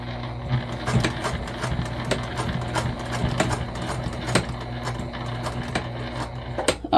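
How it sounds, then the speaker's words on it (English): A sewing machine stitches a quarter-inch gusset seam on a beginner circle bag, with short bursts of rapid needle chatter broken by brief pauses, close and clear with no talking. "we're going to sew these at a 1/4 inch seam allowance together"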